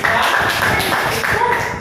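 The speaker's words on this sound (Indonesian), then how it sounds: "tepuk tangan karena sudah hadir" Schoolchildren in an elementary classroom clap their hands together, a dense, steady patter of many small hands close by, lasting under two seconds with no pauses.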